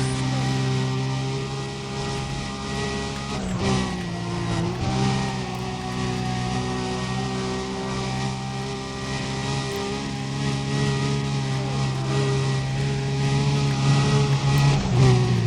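A tuned car accelerating in Need for Speed: Undercover at over 400 km/h, its engine holding a steady high-pitched drone that climbs slightly near the end, loud and continuous with no talking.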